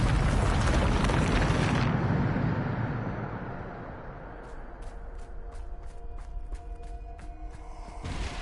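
A Bombarda explosion spell in a Harry Potter video game bursts with a loud, broad boom that rolls off over about two seconds, followed by a series of small clicking ticks.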